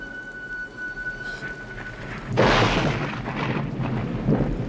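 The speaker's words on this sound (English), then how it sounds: "I don't know if I'd want to go under the tree during the lightning storm." Thunder from a lightning storm in the 1979 film The Black Stallion: a quiet, tense stretch gives way to a sudden loud crack and a rolling, rumbling roar that lingers, with rain-like noise beneath.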